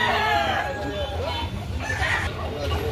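Roosters at a gamefowl farm in Carbon, Cebu, clucking and crowing under steady background chatter and crowd noise.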